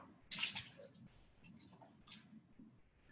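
Deionized water splashes as a glass beaker gets a final rinse at a lab sink, a loud burst of running water early on, then quieter trickling and handling sounds.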